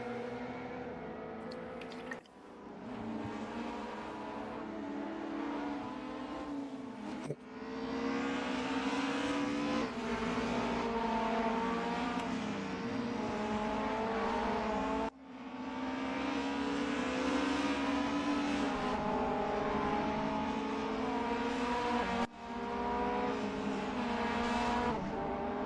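BMW race cars in a sim racing game at the Portimao circuit, engines roaring loud and steady for the whole stretch, with brief dips around gear changes and pitch swells as the cars accelerate.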